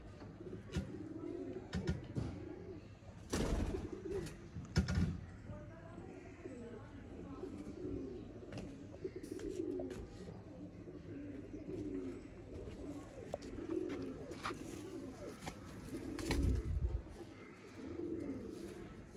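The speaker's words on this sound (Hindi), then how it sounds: "ये होते हैं बड़े लेवल के कबूतर" Breeder pigeons in a loft coo in soft repeated low rolls, moderately near, with wing flutters and handling noises scattered throughout and occasional background voices.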